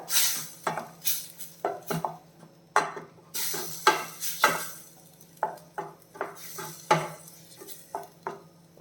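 A tomato curry being stirred in a pan, with irregular close scrapes and clinks of a spoon against the metal, each stroke distinct, separated by short quiet gaps and a faint steady hum underneath.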